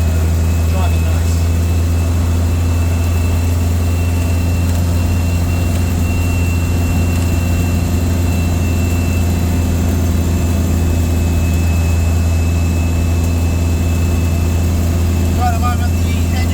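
Land Rover 110 engine running steadily while driving, a constant low rumble with engine hum that stays loud and even throughout, with faint road noise and no pauses.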